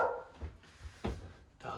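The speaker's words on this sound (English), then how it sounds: "Dogs barking, lovely." Several dogs bark in a few short, separate bursts at a moderate distance, the barks fairly soft and spaced out with quiet gaps between them.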